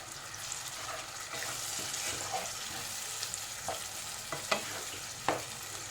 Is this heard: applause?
no